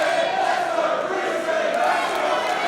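A wrestling crowd at a Defiant Wrestling women's division match, split in support between Bea Priestley and Millie Mckenzie, roars in a steady dense wash of cheering and chanting throughout, loud and sustained with no clear breaks.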